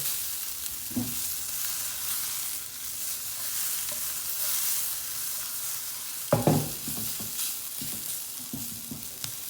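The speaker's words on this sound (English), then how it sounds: "So mix that all together." A mixture with lemon juice is stirred in a pan for egg and crumpets, a bright, steady frying hiss running throughout with a few louder scraping stirs partway through.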